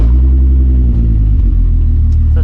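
The engine of an MK4 wagon car rumbling nearby, a loud deep steady drone with a slight pulsing throb and no voices.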